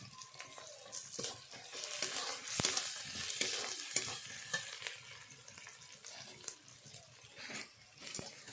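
Onions frying in a pan with cumin paste added for a village-style chicken curry, a steady close sizzle with stirring scrapes and occasional clatter, no talking.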